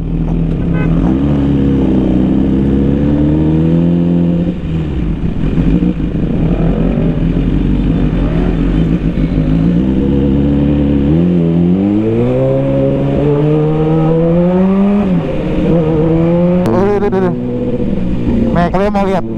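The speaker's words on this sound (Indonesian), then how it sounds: "Kalian mau lihat motor kan, motor gua kalau pakai pelan nih." A motorcycle ridden slowly at night on the road toward Lembang gives a loud, close, steady engine drone whose pitch rises and falls with gentle throttle changes, with a rider speaking over it.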